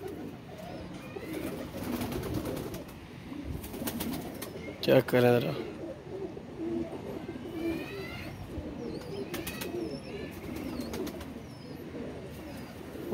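Female pigeon cooing softly in a loft, low repeated coos mixed with other pigeons' calls and chirps, while someone talks briefly over them.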